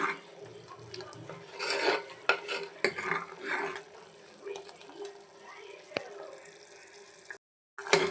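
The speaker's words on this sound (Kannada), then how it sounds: "ಸೇರಿಸ್ಕೊಂಡು ಚೆನ್ನಾಗಿ ಒಂದ್ಸಲ ಮಿಕ್ಸ್ ಮಾಡಿ ಈ ರೀತಿ" A spoon stirs salted sambar in a pot, giving soft wet sloshing and occasional metal taps against the rim, close and fairly quiet, with a brief pause near the end.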